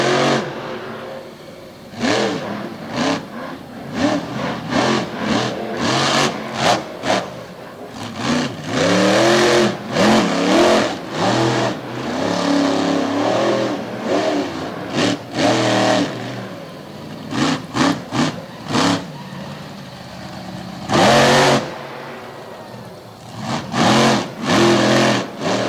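A monster truck engine revs hard during a run at Lake Erie Speedway, loud and close, with repeated rising and falling roars, sharp throttle blips and brief pauses through the whole stretch.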